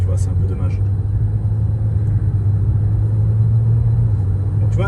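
A car accelerates on a road, its engine a steady low rumble heard from inside the cabin, with people talking over it.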